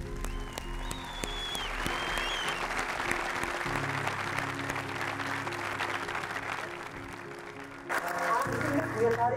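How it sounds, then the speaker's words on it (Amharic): A motivational talk audience claps together in a dense, sustained burst of applause lasting several seconds, rising louder near the end, with a voice and some crowd noise mixed in. "እስኪ አጨብጭቡ ለራሳችሁ አንዴ"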